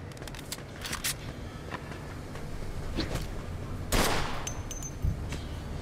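Gunfire in the Mafia 2 video game: rapid bursts of automatic shots and a few single cracks, mixed near and far, with one loud shot near the end over a steady game background.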